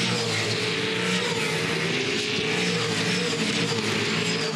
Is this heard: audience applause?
no